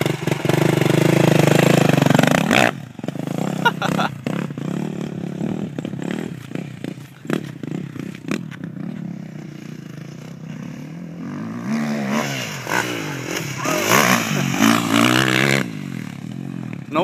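A KTM motorcycle engine at candlestick racing, with a loud steady run at first, then a series of sharp throttle blips and revs rising and falling near the listener.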